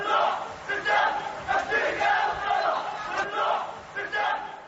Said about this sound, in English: And you hear people right now cheering, doing the Hizbullah cheer.